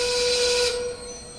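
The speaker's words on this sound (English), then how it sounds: "Mama, there's the whistle." Steam train whistle sounding as the train pulls into Elko, Nevada: a loud, steady, sustained tone with hiss for about three-quarters of a second, then a softer lingering tone with no talk over it.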